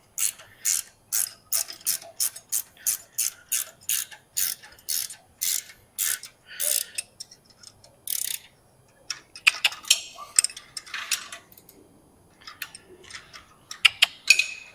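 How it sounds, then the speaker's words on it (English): A torque wrench tightens bolts on an installed 9-inch axle, making rapid, evenly spaced ratchet clicks in bursts, then a looser, irregular run of clicks near and clear with no talk. "Just torquing them."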